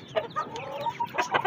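Hen in a backyard bird cage clucks in a quick series of short, close calls, several bursts in a second and a half with no talk.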